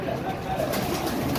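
Soft pigeon coos blend into a busy, crowded background of birds with some faint voices, continuous and fairly close.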